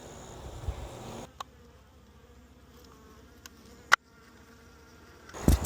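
Honey bees buzz around the hives in a bee yard, a soft steady hum in the background, with a few sharp knocks and clicks of hive equipment and a louder thump at the end.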